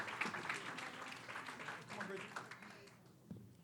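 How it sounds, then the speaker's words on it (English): An audience claps steadily through a room at a community partnership breakfast in Bronzeville as a panel walks on stage. The applause stays fairly quiet and diffuse, with crowd voices mixed in and a fade near the end. "Clap your hands as our panel comes."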